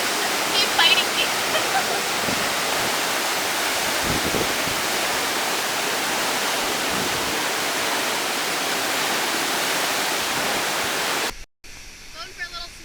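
The Phnom Kulen waterfall near Siem Reap, Cambodia, roars as a loud, steady broadband rush of falling water close by, continuous until it cuts off near the end.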